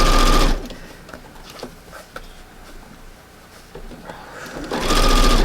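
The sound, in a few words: sewing machine stitching a hem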